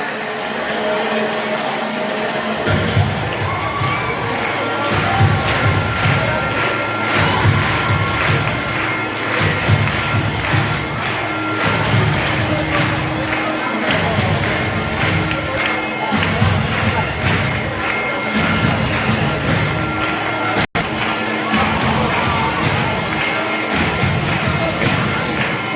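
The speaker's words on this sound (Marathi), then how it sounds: "जोरदार टाळ्या" A large crowd cheers and claps at a Yuva Tiger Force public welcome and felicitation, with a loud, continuous roar over repeated low rhythmic thumps that hold steady throughout.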